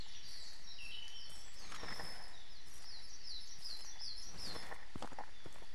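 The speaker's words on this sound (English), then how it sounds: "Dang crows." Crows in the Hunting Simulator game calling in short, repeated caws from a moderate distance over an outdoor ambience. Faint footstep-like rustles run alongside, with no talk during it.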